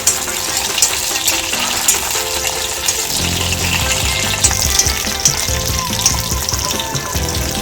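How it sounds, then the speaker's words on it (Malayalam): Raisins fry in hot ghee for a beaten rice sweet, giving a loud, continuous sizzle and crackle up close. The bubbling grows fuller and denser partway through as the frying intensifies. "നമുക്ക് ഈ ഉണക്ക മുന്തിരി ഇതിലിട്ടൊന്ന് വറുത്തെടുത്ത്"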